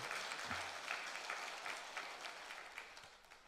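Faint, distant applause from a church congregation during a worship service, a soft, steady patter of clapping with a brief low voice near the start.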